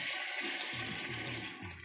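Toilet flushing inside a house in the Roblox game Meep City, a short watery gurgle and rush set against a steady hissing background, with a few low bubbling pulses toward the end.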